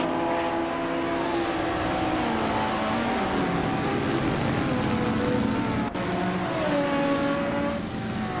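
Race cars, including a 1955 Porsche 356A, launching off the start line together, engines droning and rising in pitch as they accelerate, a steady close roar of several motors overlapping.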